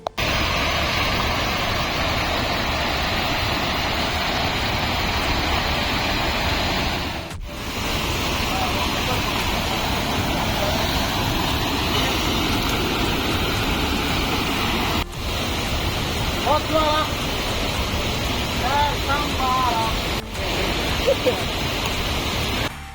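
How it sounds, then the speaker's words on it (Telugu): Thumba waterfall in the Palamaner forest pours over rocks in a dense, steady roar that fills the whole scene, close and loud, with brief breaks and faint higher chirps over it. "ఈ పక్క నుంచి వాటర్ ఫాల్స్ వస్తూ ఉంది ఇంకో పక్క నుంచి వాటర్ ఫాల్స్ మాత్రం వెళ్తూ ఉంది"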